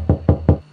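Three evenly spaced knocks on a door, close and loud, with short gaps between them and a quiet tail after the last.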